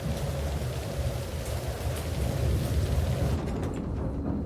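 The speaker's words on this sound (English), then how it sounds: "Blinding rain and thick cloud are obscuring the airfield." Heavy rain pours steadily in a continuous dense roar with low rumbling underneath, suggesting a thunderstorm over an airfield, loud throughout before thinning slightly at the end.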